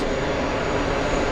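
JetBlue airliner in Peacock livery at JFK, a steady loud roar of jet engines filling the moment without variation, close and continuous with no voices.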